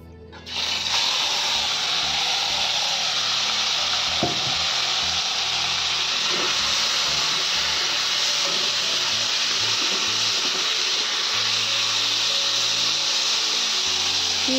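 Fish fries in hot oil, giving a loud, continuous sizzle close by with occasional faint clinks, and no talking.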